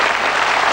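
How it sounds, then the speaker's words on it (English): Warm studio audience applause on a 1982 darts quiz show, dense and steady clapping filling the room at close, even loudness throughout. "Come on, a nice warm round of applause."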